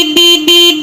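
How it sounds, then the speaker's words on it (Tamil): A stock factory-fitted vehicle horn, the standard company horn with no extra horn wired in, sounds two loud, close, steady blasts with a short gap between them. "இதுதான் வந்து நார்மல் கம்பெனி ஹார்னோட சவுண்டு."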